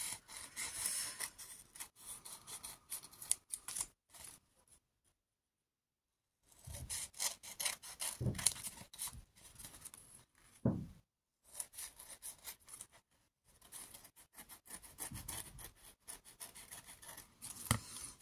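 Scissors cutting away excess paper around a recycled base for a scrapbooking project, giving soft, close snipping and rasping strokes in irregular bursts with short silent pauses.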